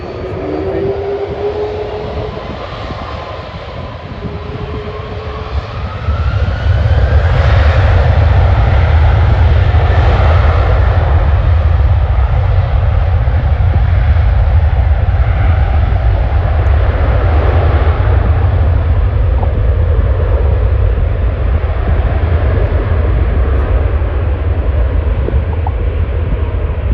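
An airplane takes off at Schiphol airport, its engines swelling to a loud, steady roar after a few seconds and holding there for the rest of the run, with a faint whine at the start.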